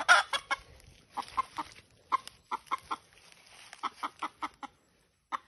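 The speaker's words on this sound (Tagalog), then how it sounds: "Palabas na palabas yung sigaw ng manok ko." A red junglefowl (labuyo) rooster gives a string of short, sharp clucking calls in irregular bursts, fairly close and clear against a quiet background, with a louder cry at the start.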